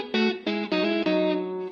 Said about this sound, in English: when I've got the neck pickup on, which sounds like this